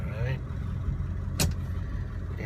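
A Ford diesel truck engine rumbles steadily and close while it pulls away, with a brief sharp hiss partway through.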